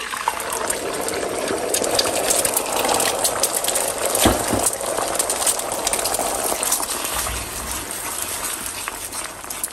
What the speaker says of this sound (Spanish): Voy a agregar un poquito de aceite en un sartén y voy a agregar el huevo.